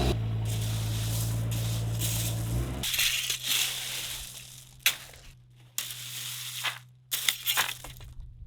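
Gravel spread and scraped with a rake while building a house, rough crunching strokes starting after a droning hum stops, loud irregular scrapes separated by pauses.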